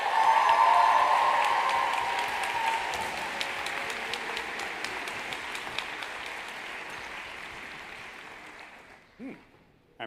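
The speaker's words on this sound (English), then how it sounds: "Give them a round of applause." Large audience applauding at a school for the arts graduation ceremony, loud sustained clapping that gradually thins and fades, with a few voices near the end.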